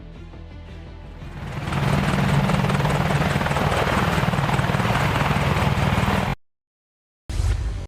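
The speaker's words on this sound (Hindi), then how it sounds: "advance combat helicopter" An Apache advanced combat helicopter flies close by, its rotor chopping into a loud, steady roar that swells after a quieter start, then cuts off abruptly before briefly returning.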